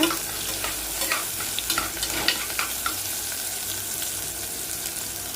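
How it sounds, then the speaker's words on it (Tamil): Sautéing in a pan for a Tamil tiffin box dish, with a close, steady sizzle and quick rhythmic scraping stirs and no voices. "நல்லா வதக்கிடுங்க"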